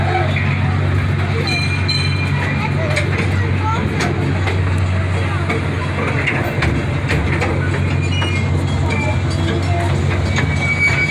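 A small tourist train at Gatorland in Florida rumbles steadily along the rails with a constant low drone and faint metallic clatter, while a voice talks over the noise throughout.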